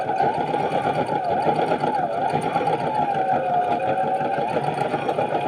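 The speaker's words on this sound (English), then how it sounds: "And just continue sewing." A sewing machine runs continuously while stitching a straight line, a steady close whirring drone with a fast regular rhythm and no pauses.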